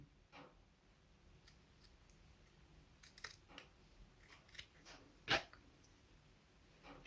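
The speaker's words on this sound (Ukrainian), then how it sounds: "Для цього ми беремо ножиці, відступаємо від лінії зшивання 1 см і відрізаємо зайву тканину." Sewing scissors snip off excess fabric at a corner beside the stitching line, a few quiet, crisp cuts spaced apart in a hushed room, with one sharper clip near the end.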